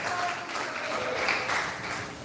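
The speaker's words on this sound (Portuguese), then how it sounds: "louvem a Jesus com as suas belíssimas palmas e glória a Deus" A church congregation claps in praise during a Portuguese-language Pentecostal service, a brief burst of broadband applause with faint musical tones beneath it.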